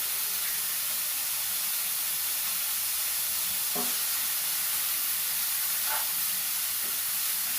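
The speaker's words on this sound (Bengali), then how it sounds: "পেঁয়াজটা আগে থেকে অনেকটা নুয়ে গেছে, ভাজা ভাজাও হয়ে গেছে" Onions fry with salt in a pan, a constant soft sizzle with a couple of brief clicks or stirs partway through; the sound is quiet and steady, with no voices.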